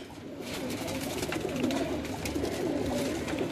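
Mian Nazir golden pigeons on a rooftop, soft repeated cooing from several birds over a steady background hum, with no talking.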